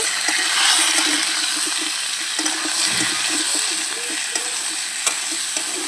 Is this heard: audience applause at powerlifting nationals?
no